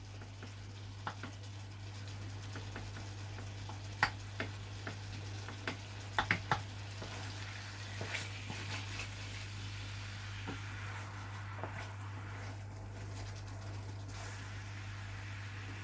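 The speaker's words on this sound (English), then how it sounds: "That butter's really cooking through nicely." Butter bubbles under a steak in a frying pan, a soft continuous sizzle with occasional small pops and clicks, over a steady low hum.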